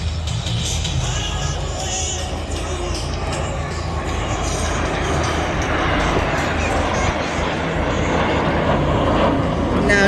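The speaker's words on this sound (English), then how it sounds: "we got a slower pass with the right wing down and the Strike Master pair" A pair of Strikemaster jet aircraft makes a slower pass at the Clacton seaside airshow, producing a steady, loud broadband roar that holds for the whole stretch without breaks.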